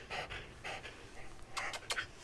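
A dog panting close by in quick, breathy bursts that come in short rhythmic runs, with no talking.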